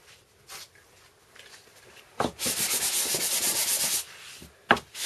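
Sandpaper rubbing across an MDF board to smooth drill burrs, several close, steady back-and-forth strokes of about two seconds, with a short rasp before and after.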